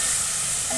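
Spring onion greens with turmeric sizzle steadily in hot oil in a pan, a close, continuous frying hiss with no voices.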